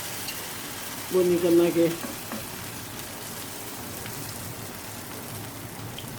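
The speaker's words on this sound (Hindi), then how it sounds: "वैसे मीडियम आंच पे इसको तलना है" Bottle gourd kebabs frying in oil over medium heat make a soft, steady sizzle, with a brief spoken phrase near the start.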